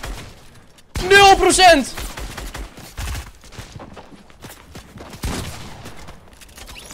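Scattered gunshots in a shooter video game, a few sharp cracks spread over several seconds beneath excited talking.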